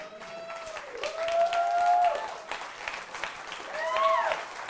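Audience applause at a live magic show, a steady wash of clapping from a crowd that rises and falls over a few seconds, with a host's voice partly heard over it.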